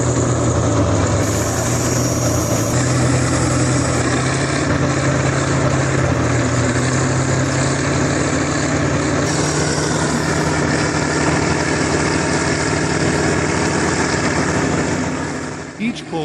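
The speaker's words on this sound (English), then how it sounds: "another tractor used its power to pull the K701 out of there" A tractor's heavy engine drones steadily and loudly as it strains to pull a stuck Kirovets K701 tractor free, a continuous rumbling roar with shifting tones throughout.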